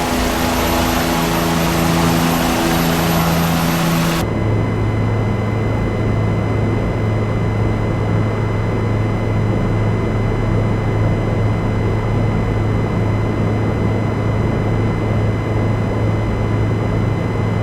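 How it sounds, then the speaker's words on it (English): A Bell 207 helicopter on a demo flight from Glasgow to Edinburgh: a loud, steady engine and rotor drone heard from inside, with a shift in tone after a few seconds, then an unbroken hum. "Pretty nice helicopter."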